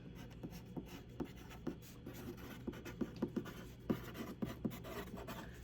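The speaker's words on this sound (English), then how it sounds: "the first thing that we're going to do is write our name on the back" A pen or pencil writes a name on the back of a sheet of paper, giving a quiet, close run of scratchy strokes with small taps at an uneven rhythm.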